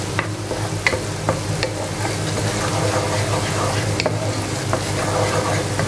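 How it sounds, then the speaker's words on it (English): Finely chopped garlic cloves sauteing in a pan, a steady close sizzle with scattered scraping and stirring clicks throughout. "Just saute it for a couple of minutes."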